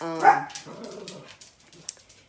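A pet dog in a home neighborhood gives one loud, close bark, followed by a few softer yips and whimpering sounds that fade out.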